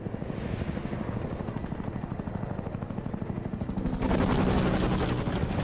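Helicopter rotor chop from a Gears of War game cutscene: a steady fast rhythmic thumping fills the scene, growing louder and brighter toward the end, with no talk over it.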